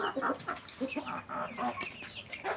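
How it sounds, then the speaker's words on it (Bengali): Chickens being let out of their coop in the morning on a small open-range farm in Bangladesh, a flock of hens clucking in short, busy bursts close by, with no talk over them. "এখন আমি মুরগিগুলো ছাড়ছি সকালবেলা"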